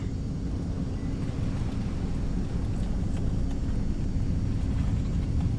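A Cessna C208B Caravan in X-Plane 11 run at full power for takeoff: a steady, loud, unbroken turboprop roar with a deep low rumble and no talking.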